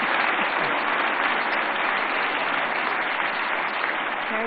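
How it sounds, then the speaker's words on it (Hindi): Audience applause at the National Film Awards ceremony fills the hall as a continuous, broad roar of clapping, steady and fairly loud for several seconds with no talk on top. "जोरदार तालियों से स्वागत करें वहीदा जी का"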